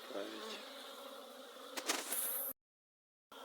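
Buckfast F1 honeybees of a Danish line hum in flight at midwinter, a steady buzzing swarm with a louder pass near the end before a short cut to silence.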